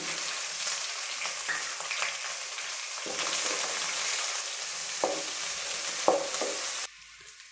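Onions frying in oil with garlic and chillies for a soppina palya produce a steady close sizzle marked by several sharp scraping stirs and spatula knocks, then drop suddenly to a quieter hiss near the end. Nobody speaks.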